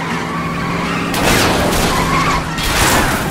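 In a police chase in L.A. Noire, a car's tires skid and squeal in loud, grinding bursts as it rams another vehicle. Two surges of harsh noise rise over a constant engine roar, with no talk.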